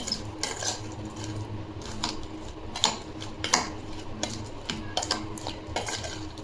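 Raw mango pickle being stirred with oil in a metal pot, a spoon scraping and clinking against the sides in repeated uneven strokes, close and fairly quiet, with no talking.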